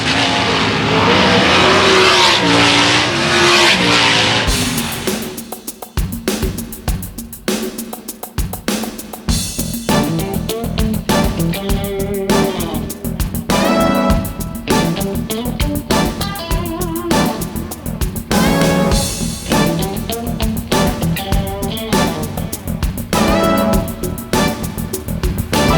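Race cars roar flat out past the checkered flag at the Kevin Gobrecht Classic, engine noise loud and continuous, with a brief dip before cars sweep by again in a dense, sustained blare.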